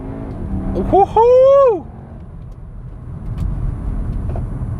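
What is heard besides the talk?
Cupra Formentor accelerating after paddle downshift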